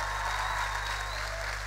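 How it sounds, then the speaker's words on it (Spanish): A crowd applauds at a live comedy show in Uruguay in a dense, even burst of clapping that holds steady throughout the short moment. "Fuerte el aplauso para ustedes, posta."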